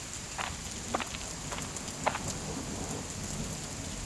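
Heavy cartoon rain falls as a constant soft hiss, punctuated by a few sharp drop-like ticks and light thuds, fairly quiet overall with no talking.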